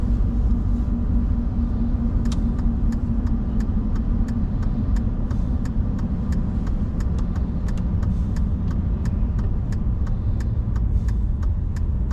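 Heavy road traffic streams past in Minot, North Dakota, a steady, loud broadband rumble of cars with no breaks, plus a run of faint regular clicks or ticks throughout.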